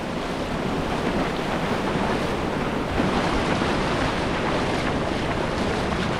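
Ocean surf washes steadily onto a beach, a continuous broadband roar of breaking waves mixed with wind buffeting the microphone, loud and unbroken throughout.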